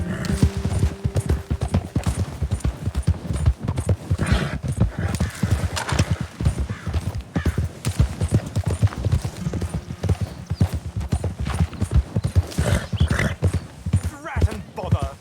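Horse hooves clip-clopping at a steady gallop in Red Dead Redemption 2, loud and continuous throughout, with an occasional whinny and some talk over the rhythmic beats.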